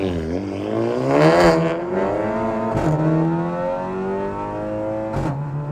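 A Golf GTI 7.5 with carbon fiber parts accelerates hard from a launch. Loud, close engine tone climbs steadily through the revs, with sharp breaks at two gear changes before it pulls again.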